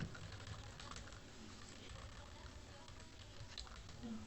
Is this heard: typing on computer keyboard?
yes